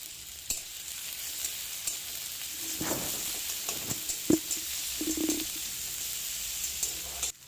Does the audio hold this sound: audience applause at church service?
no